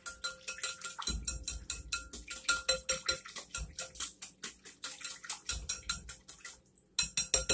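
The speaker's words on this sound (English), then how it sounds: "Now, I'm going to whisk this around" A whisk beats a buttermilk mixture with paprika and garlic powder in a bowl, clicking fast and steadily against the sides up close, with a short pause near the end before the rhythm picks up again.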